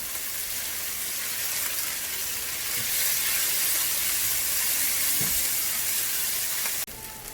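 Salted peas and chana sizzle and hiss steadily in a hot pan as they cook down and caramelize for a beans masala, a constant, fairly quiet frying sound with no talk over it.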